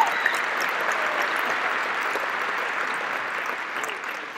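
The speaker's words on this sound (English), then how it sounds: "Mark's wife, give a big round of applause for her." Audience applause for a newly married man's wife, a steady broadband clatter of many hands clapping that holds evenly for several seconds at moderate loudness, with no talking over it.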